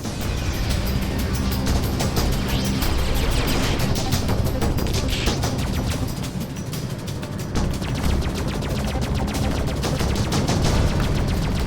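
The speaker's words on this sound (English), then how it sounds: "Enemies firing!" Enemy fire in the space game Freelancer rattles nonstop as dense, rapid bursts of blaster shots, loud and close, layered over a constant heavy rumble with no pauses.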